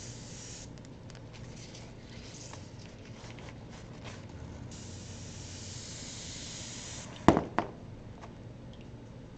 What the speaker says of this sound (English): so we're just going to spray the texture.